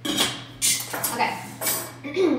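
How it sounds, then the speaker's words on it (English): Cocktail stirred over ice cubes in a mixing glass for a speakeasy-style drink, heard as a few loud, close clinking and rattling bursts in quick succession with short gaps between them. "but we're going to stir it over ice."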